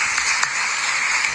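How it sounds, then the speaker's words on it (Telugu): An audience at a gathering bursts into applause, giving a dense, steady patter of many hands clapping at moderate loudness with no talking over it. "అందరు చప్పట్లు కొట్టండి మరి"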